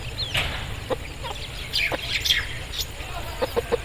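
Aseel chickens cluck in short, scattered bursts over a low background hum, a few sharp calls rising above the rest, moderately close.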